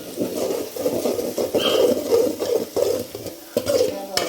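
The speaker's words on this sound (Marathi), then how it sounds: "आता फोडणेक टाकते" Spices tempering (phodni) sizzle in hot oil for a Maharashtrian chicken dish, a steady crackling fry with stirring scrapes and brief louder bursts, close and without talk.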